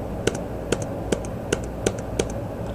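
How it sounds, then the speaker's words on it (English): A computer keyboard spacebar tapped six or seven times in a steady, evenly spaced rhythm, each press a crisp, close click on its own with no talking. "you essentially have to hit the spacebar 7 times here"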